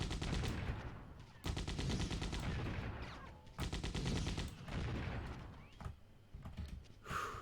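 Enemy gunfire in the video game Codename Eagle comes as repeated bursts of automatic shots, loud and close, with brief gaps between volleys and no talking.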